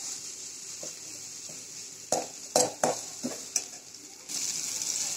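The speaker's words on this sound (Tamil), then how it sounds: "நம்ம இஞ்சி பூண்டு சேர்த்துட்டு நல்லா வதக்கி விட்டுருங்க." Ginger and garlic sauté with onion in hot oil, a steady bright sizzle under a few loud spatula scrapes and knocks on the pan, then the sizzle swells again.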